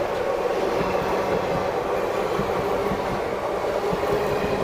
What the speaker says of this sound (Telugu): ఈ పక్క ట్రైన్ కూడా వెళ్తుంది.